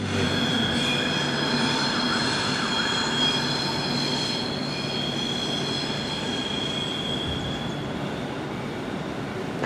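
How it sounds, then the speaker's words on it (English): Passenger train moving through Euston Station in London, a steady rumble of rolling wheels and carriages with a high metallic squeal running through it, fairly close and continuous with no speech. "I don't know if you can see that train."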